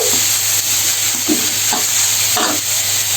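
Steamed cabbage is briefly sautéed in a pan, giving a steady close hiss with a few soft stirring scrapes and no speech.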